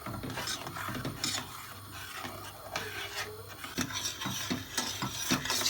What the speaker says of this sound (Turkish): Kaynayana kadar karıştıracağım.